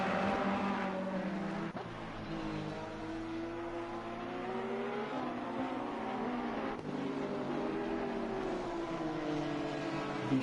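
Ferrari race car engine in a sim racing game at Kyalami, a steady high-pitched whine that rises and falls through gear changes, running alone and moderately loud.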